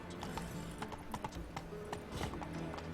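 Horse hooves clip-clop at a brisk, rhythmic gallop in the video game The Witcher 3, close and steady, with a brief whinny mixed in and no talking.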